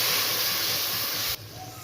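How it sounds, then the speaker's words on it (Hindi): Water poured into a pan of masala frying for sarson ka saag with turmeric, giving a loud, steady sizzling hiss that drops sharply to a quieter simmer near the end. "ये पानी इसमें ऐड कर दिया है।"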